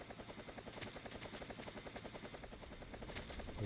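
Helicopter rotor thumping steadily in Metal Gear Solid 3, a fast rhythmic chop with a whine on top, loud and continuous throughout.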